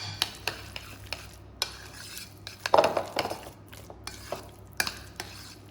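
A spoon stirs a ricotta gnocchi mixture in a bowl, producing close, irregular clinks and scrapes of utensil against the bowl with soft mixing sounds between them.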